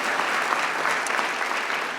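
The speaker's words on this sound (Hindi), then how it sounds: "एक बार जोरदार तालियां लक्ष्य के लिए बजा दीजिए प्लीज एवरीबॉडी" A crowd at a film fan meet in India applauds enthusiastically for a storyteller, producing a thick, continuous roar of clapping close at hand and holding steady throughout.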